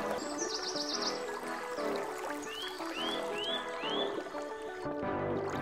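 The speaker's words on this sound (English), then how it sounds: "That seagull's laughing at me" A seagull in the I Am Fish video game gives a short run of rising, laughing calls, several in quick succession over a busy game soundscape with other chirps and watery ambience.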